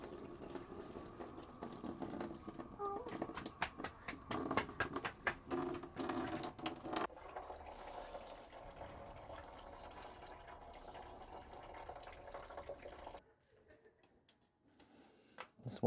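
Coolant pours from the radiator of a Suzuki V-Strom DL 650 motorcycle once the radiator cap is undone: faint, uneven splashing and trickling liquid that runs steadily, then cuts off near the end.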